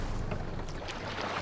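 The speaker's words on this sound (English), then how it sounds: "We need to row our way out." Oars rowing a boat in Assassin's Creed Valhalla: a steady wash of water and wind with soft splashes, no voices.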